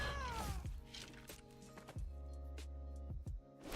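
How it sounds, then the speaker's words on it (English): A cat pet in the MTG Arena game meows several times in short plaintive calls, each followed by a sustained tonal chime, clear and close with no talking. "This cat pet is throwing me off with all its meowing."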